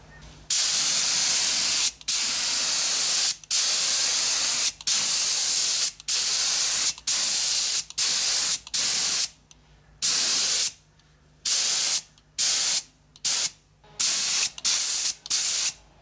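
Lacquer spray gun laying a coat on a mid-century modern guitar pick table, loud steady hissing bursts of a second or so each, repeated in a regular rhythm with short gaps, growing choppier toward the end.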